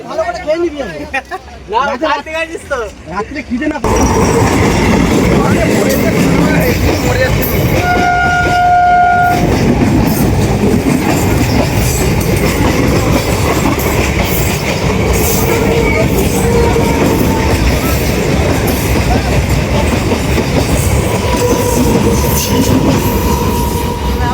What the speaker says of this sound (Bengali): দেখো ট্রেন আসছে দেখো ট্রেনটা